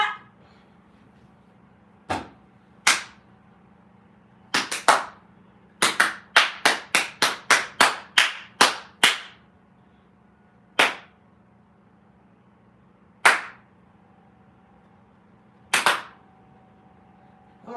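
Sharp, isolated hand claps in a quiet room, a few single claps followed by a quick run of about ten rhythmic claps, then scattered single claps again, each one crisp and close over a low steady hum.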